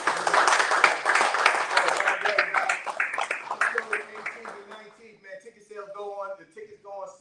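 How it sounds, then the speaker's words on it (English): An audience claps through a round of applause at a live event, a dense wash of many hands that stays loud for several seconds and then thins toward the end while a voice starts to come through. "give a round of applause"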